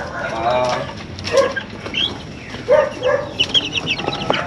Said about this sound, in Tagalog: Ayan, madaming manok.